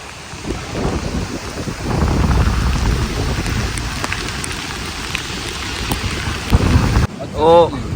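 Heavy rain pours steadily at a beach with low thunder rumbling through it. Wind gusts add to the dense, continuous hiss, and a brief different sound cuts in near the end.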